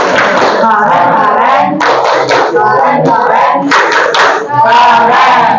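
A school class performing the tepuk keren rhythmic clapping chant, loud close group clapping in patterned bursts mixed with chanted voices.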